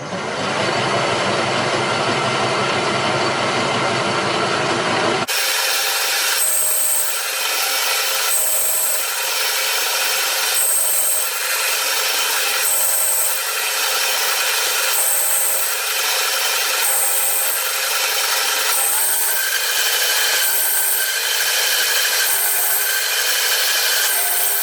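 A machine cuts a router plate part at about 40 thousandths per pass: a steady, bright, grinding cut with a regular pulsing rhythm that runs alone and loud throughout.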